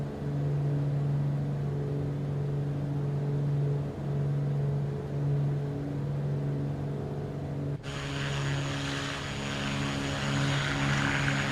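A propeller airplane cruises at 1,700 feet in a VR flight simulator, its steady engine drone humming evenly and loudly throughout, with a brighter, fuller engine tone cutting in sharply near the end.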